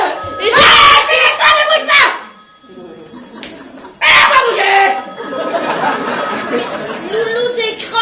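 A telephone rings in a French amateur theatre stage play, bursts of bright ringing recurring over several seconds alongside voices speaking and calling out.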